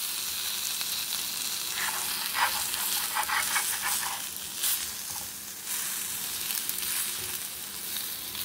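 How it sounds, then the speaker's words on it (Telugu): Roti frying in oil on a hot tawa gives a steady close sizzle with a few crackling bursts and spatter, and no talk over it. "ఆయిల్ వేసుకొని ఫ్రై చేసుకుందాము"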